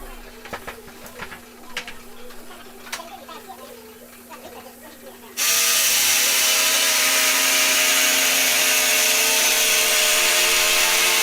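A power tool bites into tongue-and-groove porch wood to cut a 6 3/8 inch hole, starting halfway through as a loud, continuous whining roar after a stretch of quieter handling noises and clicks.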